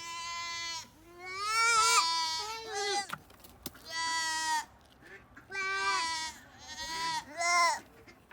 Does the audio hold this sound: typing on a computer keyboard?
no